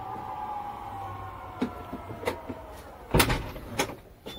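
An aftermarket auto electric tailgate on a Toyota Land Cruiser LC300 operates with a steady motor hum, broken by several clicks and a louder mechanical clunk near the end.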